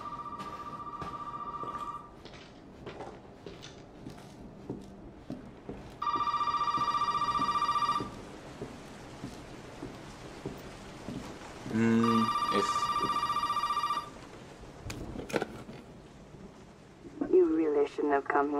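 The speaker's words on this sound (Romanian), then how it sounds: "Un telefon?" A telephone rings in a video game, with several separate bursts of electronic ringing spread between quieter stretches of game noise and speech.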